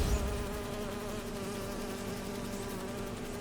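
Bees buzz in the Spider-Man 2 video game on PS5, a dense, steady insect drone with layered wingbeat tones that stays loud and close without pause.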